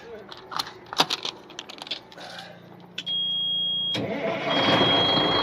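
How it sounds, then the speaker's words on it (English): After some clicks and clatter, a truck engine cranks and catches at about three seconds, then settles into a steady idle that grows slightly louder. "Fires right up. Okay, now that the truck runs"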